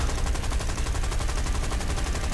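War Thunder gunfire hammers out as a fast, evenly spaced machine-gun stream, loud and unbroken from start to finish with no talk.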